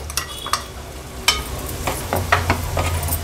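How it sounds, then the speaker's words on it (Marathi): A ground masala paste sautés in oil over a lowered gas flame for a Karli fish curry, giving a soft continuous sizzle broken by a few spoon scrapes and clinks against the pan. "वाटण पण तेलावर परतून घेते आणि गॅसची फ्लेम थोडी लो करून घेतली आहे।"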